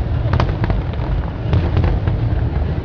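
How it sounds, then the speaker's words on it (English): New Year's Eve 2007 fireworks explode close by over a parking area, a loud, continuous run of sharp bangs and crackling bursts with no clear pauses. "We're watching the fireworks right now."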